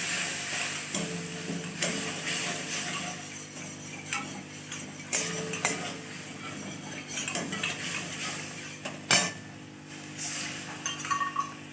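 Ginger paste with cumin, chili and turmeric powder and a splash of water being stirred in a pan: repeated close scraping and irregular metallic clinks of utensil on pan, with no speech.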